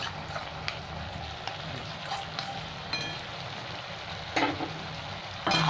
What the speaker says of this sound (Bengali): আর এটাকে ভালো করে নেড়ে দেবো।